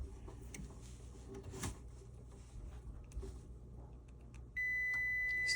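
A multimeter on continuity mode lets out a sustained electronic beep near the end while testing a Trane ECM blower motor. Faint handling clicks and quiet rustling come before the tone.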